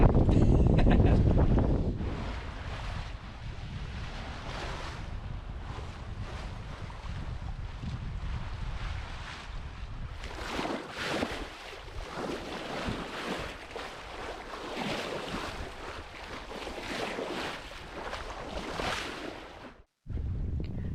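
Sailboat under way in the first sail of the year, with steady loud wind buffeting the microphone and waves washing against the hull throughout, a brief dropout near the end.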